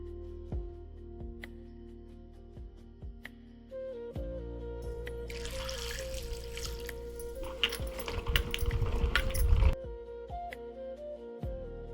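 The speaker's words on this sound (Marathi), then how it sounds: "पहिल्यांदा ना भोकरं चांगले धुवून घेऊ" Wild bhokar fruits are washed by hand in water, with sloshing and splashing building up for a few seconds over steady background music.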